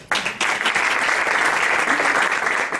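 An audience bursts into loud, sustained applause, dense clapping that carries on evenly from start to finish.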